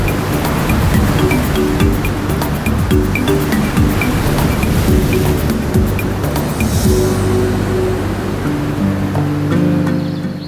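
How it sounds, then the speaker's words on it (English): Powerful Pacific Ocean waves break on the flat coastline at Tortuguero, Costa Rica, making a loud, continuous roar of surf with no pauses. "Powerful waves are driven to the flat coastline by the winds of the Pacific Ocean."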